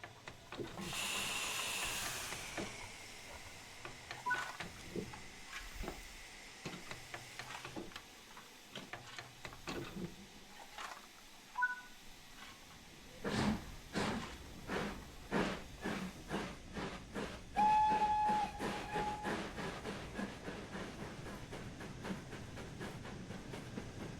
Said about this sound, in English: open the regulator again to get the train moving